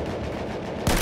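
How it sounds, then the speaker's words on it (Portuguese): Machine gun fire in the World War I video game Battlefield 1 rattles as a rapid, dense burst, with a louder, nearer volley breaking in at the very end of the short stretch. "Allá hay una ametralladora."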